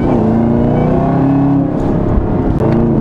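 A car engine accelerates under load while driving in regular mode, a steady loud drone with rising harmonic tones heard up close, no talk over it.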